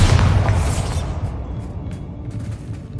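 A Bombarda spell explodes in the video game Hogwarts Legacy with a loud, booming blast right at the start, then fades into a rumbling tail over about three seconds.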